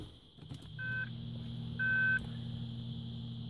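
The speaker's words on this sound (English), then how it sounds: "Good, we have beeping." A Bentley Arnage being woken up gives two clear electronic beeps about a second apart, each a steady tone lasting roughly a quarter second over a low idle hum.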